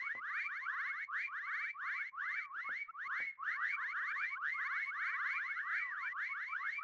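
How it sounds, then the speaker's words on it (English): Repeating alarm-like electronic warbles from the video game Meccha Chameleon, loud and continuous, with rapid rising and falling chirps in a steady pulsing rhythm and no talking. "It sounds like an alarm a little bit."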